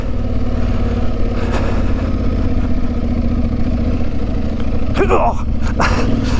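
An Aprilia Tuareg 660 motorcycle rolls slowly along a country lane, its engine a steady low hum at close range, with a brief burst of rustling or scraping noise near the end.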